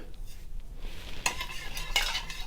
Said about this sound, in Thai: คนให้ละลายนะคะ